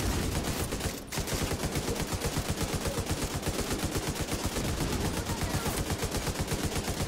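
Sustained automatic gunfire from the video game The Division 2 rattles in rapid unbroken bursts, loud and close, with one brief dip after the first second and no talking.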